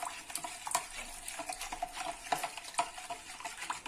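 A spoon stirs salt into hot boiled water for pickling turnips in a jar, giving a steady run of close, light scraping and clinking strokes against the container, with no talk.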